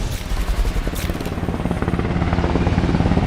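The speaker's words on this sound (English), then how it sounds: "Presence of the helicopter is there." A helicopter flies overhead at the El Paso–Juárez border, its rotor thumping in a fast steady beat that grows slightly louder and nearer, alone without talk.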